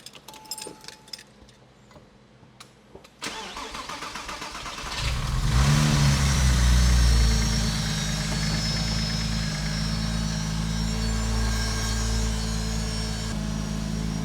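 Keys jangle, then a Porsche 986 Boxster engine cranks and catches after restoration, revs briefly, and settles into a steady, close idle.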